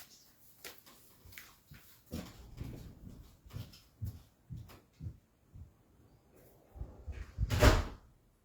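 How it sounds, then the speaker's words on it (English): A door swings open on its own in the wind, heard as a series of soft knocks and rattles that end in one louder bang nearby, with no voices. "the wind just opened the door"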